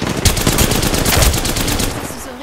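Rapid automatic gunfire in the video game Apex Legends, a close, loud stream of sharp shots rattling for about two seconds before tapering off.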